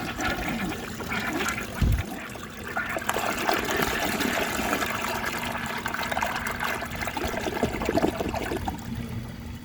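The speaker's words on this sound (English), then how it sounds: "So I'm going to give this one last flush to clear out the rest of the dirt." A 1957 Kilgore Atlas toilet flushes with a steady rushing, gurgling surge of water that continues for several seconds, then trickles as the tank refills, close and moderately loud, with no voices.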